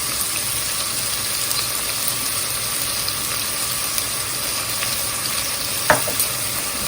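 Onion and other ingredients frying in a pan for okra curry, a continuous steady sizzle with one brief stir or clatter near the end, no talking.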